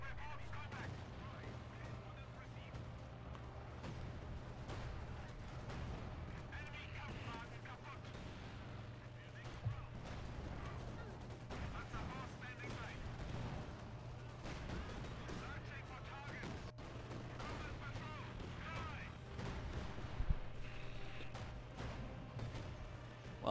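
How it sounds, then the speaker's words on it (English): Artillery barrages and gunfire in a Company of Heroes 2 battle, a dense, steady wash of distant thuds and crackling shots with a few sharper bangs, while a voice talks over the combat. "I'm artillering their last building over here."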